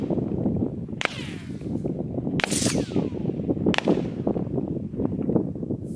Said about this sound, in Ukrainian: Ось так виглядає стрільба з полум'я гасником.